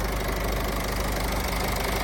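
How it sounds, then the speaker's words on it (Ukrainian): The 2.0 dCi diesel engine of a Renault Koleos idles with a steady, even rumble and light knocking, filling the whole moment at close range with no talking. "Мотор працює чітко, рівненько"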